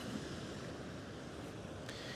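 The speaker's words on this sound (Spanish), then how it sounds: "Tenemos el mar." Sea waves washing along a rocky coast with cliffs and a pool below, a steady, fairly distant broadband wash with light wind noise and no voices.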